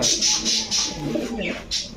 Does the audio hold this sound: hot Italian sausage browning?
no